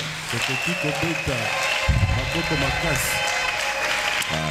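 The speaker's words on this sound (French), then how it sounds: "Est-ce que nous pouvons acclamer très fort?" A church congregation claps loudly and steadily during a French-language sermon. A strong voice speaks or chants over the clapping throughout.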